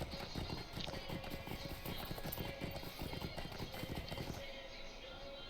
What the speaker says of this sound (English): There's a horsey.